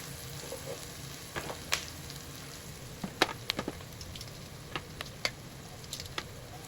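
Garlic frying in a pan ahead of adding pork ribs, a steady close sizzle broken by scattered sharp pops and crackles, with no talking.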